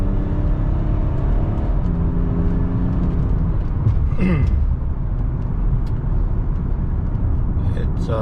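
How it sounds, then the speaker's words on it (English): Tuned BMW X5 35d accelerating hard at full throttle, a steady deep engine drone that swells as it pulls, heard close from inside the car with a voice talking over it. "This is about half throttle, and then you floor it and it just pulls you back."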